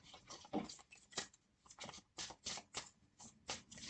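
Tarot cards are shuffled by hand in a quiet room, a series of soft, quick riffling bursts at an uneven rhythm, about a dozen in four seconds, close and fairly faint with no talking.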